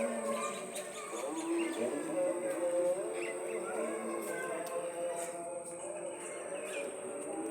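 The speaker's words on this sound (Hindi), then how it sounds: "शांति से सुनोगे तो आपको पक्षियों की आवाज़ आएगी।" Birds chirp and call around a village in Bihar, India, scattered light tweets over a steady outdoor hum, with faint murmuring voices in the background.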